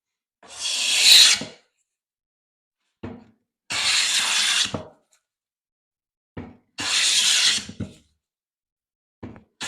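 A hand plane takes shavings off pine wood in long rasping strokes, three main passes with shorter scrapes between, close and clear with no talking.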